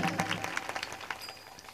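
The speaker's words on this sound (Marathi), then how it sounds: "जोरदार टाळ्या आमच्या साऊंड ऑपरेटर दादासाठी" A crowd at a Marathi comedy kirtan claps for the sound operator, a brief burst of dense, rapid hand claps that fades slightly over under two seconds.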